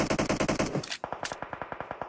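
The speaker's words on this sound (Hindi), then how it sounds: "पीछे से फायर हुआ डेंजर बच के रहना" Rapid automatic gunfire in the mobile battle-royale game PUBG Mobile, coming from behind the player: two quick bursts of evenly spaced shots, the second burst sharper and more clipped, loud with no voices.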